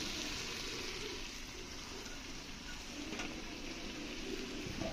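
Meat sizzles steadily in a hot pan as it is sautéed into kosha. The frying hiss is continuous and fairly faint, with a soft bubbling texture and no voices.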